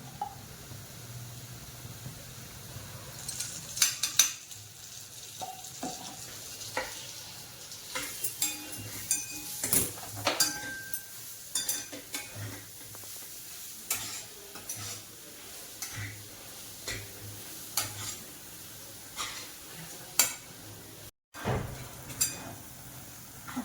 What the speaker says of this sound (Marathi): मऊसूत भाजायचं चांगलं छान असं लालसर होईपर्यंत खमंग भाजलं पाहिजे